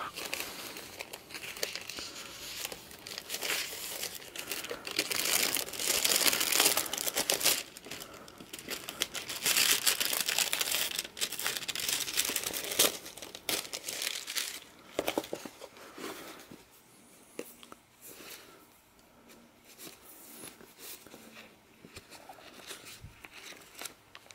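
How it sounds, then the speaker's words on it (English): Wax paper crinkles and tears up close during a library book repair. Dense, loud rustling fills the first half, then thins into scattered softer crackles and handling noises. "Just going to tear the wax paper because I want the strength of those pages."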